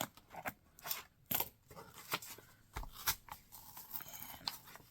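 Scissors or a utility knife cutting through book pages, a series of sharp snips and crisp paper crunches at an uneven rhythm, close and quiet.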